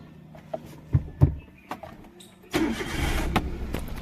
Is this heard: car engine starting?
yes